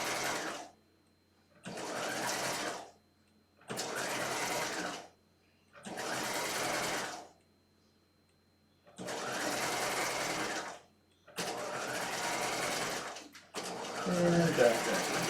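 A sewing machine stitches horsehair braid onto a skirt lining hem in six even runs of close, steady whirring, each separated by a short silent pause, with brief handling noise at the end.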